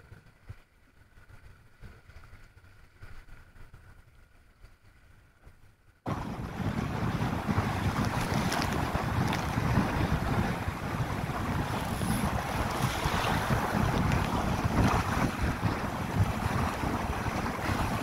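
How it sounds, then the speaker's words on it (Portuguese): Strong wind and waves while sailing a small sailboat on Lagoa do Perí, quieter at first, then a sudden loud, steady rush of gusting wind and splashing water with heavy wind buffeting on the microphone. "Nesse ponto, o vento já estava bem mais forte."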